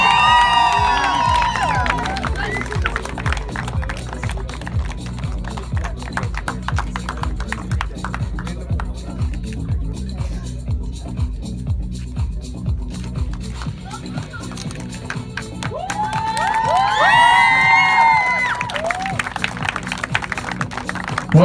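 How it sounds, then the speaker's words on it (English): Crowd at a T-10 cricket championship applauding and cheering the winning women's team captain, with whoops and children shouting over a steady clapping bed, louder bursts near the start and end. "Team A winner, big round of applause"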